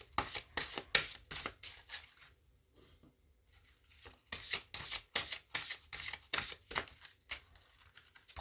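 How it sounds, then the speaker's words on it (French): Oracle cards being shuffled by hand, close up: bursts of quick rhythmic riffling and slapping, a short quiet pause, then another longer run of brisk shuffling. "Je vais vous tirer 3 cartes."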